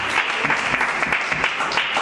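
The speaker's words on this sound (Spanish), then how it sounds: "Fuerte aplauso al Señor." A church congregation bursts into loud, dense applause in praise of the Lord during an evangelical preaching service, a steady wash of many hands clapping close by with no voices rising above it.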